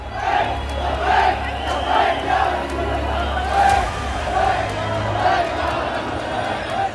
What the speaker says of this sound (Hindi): धार्मिक नारों की गूंज तेज हो गई।